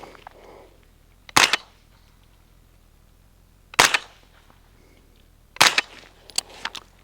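Suppressed rifle shots with subsonic ammunition through a JMac Customs Banka suppressor, three sharp loud cracks spaced a couple of seconds apart, the last followed by a few quieter clacks, in otherwise quiet surroundings.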